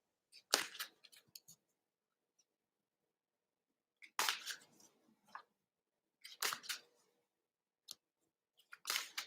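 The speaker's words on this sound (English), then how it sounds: "And I'm going to shuffle." A deck of cards being shuffled at close range, heard as four separate crisp, rustling bursts of about a second each, with quiet gaps between them and no talking.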